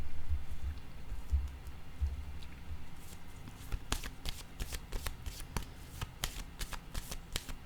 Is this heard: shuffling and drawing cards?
yes